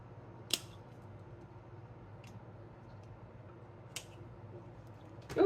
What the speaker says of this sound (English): I trimmed off some healthy roots by mistake.